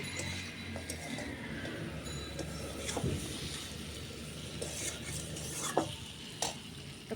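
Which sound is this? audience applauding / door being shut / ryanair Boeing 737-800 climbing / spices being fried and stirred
spices being fried and stirred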